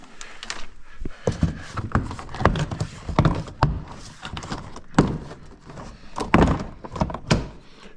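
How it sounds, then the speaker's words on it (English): Door card panel being pried and pulled off a Honda Fit door, a busy run of plastic thunks, clip pops, knocks and rustling scrapes, irregular and close, continuing for several seconds without talk. "we can take off the door card."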